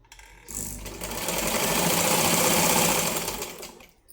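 A sewing machine runs steadily while stitching a lined blouse, spinning up and holding a loud, close, continuous whirring hum for a few seconds before slowing to a stop.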